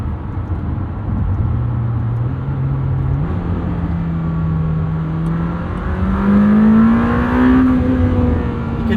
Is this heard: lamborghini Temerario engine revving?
yes